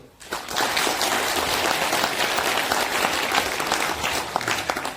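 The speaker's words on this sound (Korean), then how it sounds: "자, 여러분을 위해서 박수." Audience applause at a religious association gathering of several hundred people, a dense, sustained clapping that starts abruptly and holds loud and even to the end, with no talk over it.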